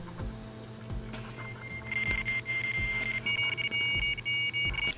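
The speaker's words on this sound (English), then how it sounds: "if you dial the number, you hear the familiar connection tone" A Nokia 3310 phone dialing a circuit-switched data connection emits a dial-up style tone: steady electronic beeping tones that rise and sustain over a low hum, fairly loud and continuous, with no talk.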